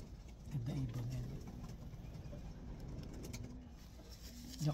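Racing pigeons coo in low, throaty bursts close by, a few calls spaced apart over a quiet background with faint rustling.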